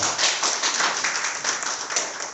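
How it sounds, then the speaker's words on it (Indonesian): Audience applause at an Indonesian crypto coin presentation, a dense steady patter of many hands clapping close by for a couple of seconds with no talk over it. "Tepuk dulu dong."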